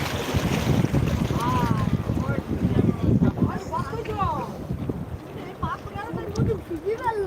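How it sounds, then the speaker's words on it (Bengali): A fishing trawler's engine drones as it returns with its catch at Digha Mohana, over steady wind buffeting the microphone, with people talking and calling out nearby. "দেখুন মৎস্য শিকার করা ট্রলার কিভাবে মাছ নিয়ে বাড়ি ফিরছে"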